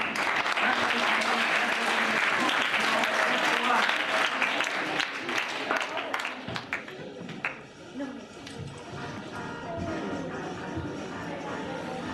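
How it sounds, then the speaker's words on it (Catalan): A group applauds during a school radio programme segment congratulating an award-winning reception class, a full burst of many clapping hands that thins and breaks into scattered claps and light shuffling about halfway through. "doncs felicitats, un aplaudiment."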